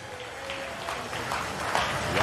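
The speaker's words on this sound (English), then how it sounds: "Let's give all our singers a big round of applause" At the Manito Ahbee Pow Wow, an outdoor crowd claps for the drum singers after the competition: a moderate, spread-out patter of applause that grows slightly louder toward the end, with some background voices.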